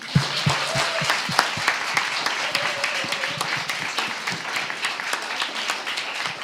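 An audience at a hospital hackathon final pitch session gives a round of applause, a moderate, steady wash of many hands with some distinct nearer claps standing out.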